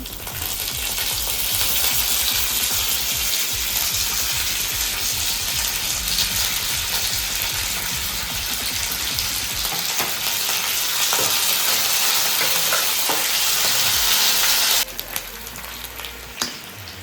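Garlic pieces and curry leaves fry in hot oil for an Andhra raw mango dal tempering, giving a loud, continuous close sizzle with stirring that eases off sharply near the end.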